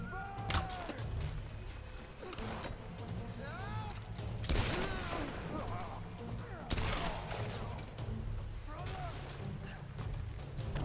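Gunfire in the video game Tomb Raider (2014) rings out in repeated loud, sharp bursts and volleys, with booming echoes and game effects filling the gaps.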